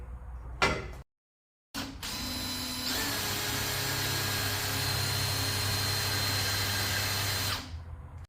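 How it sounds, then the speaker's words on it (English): A power drill boring a 12mm hole during a custom rear drawer pull-out kitchen build, starting with a short burst, a brief pause, then a long steady whine that runs for several seconds before cutting off. "Alright, so I've drilled the 12mm hole."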